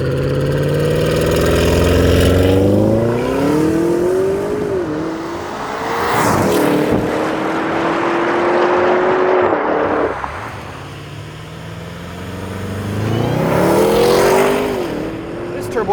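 A 2024 Porsche Cayenne Turbo GT SUV accelerates hard from a launch, its engine rising in pitch through gear changes, dropping and climbing again, loud and close, with a voice speaking over it.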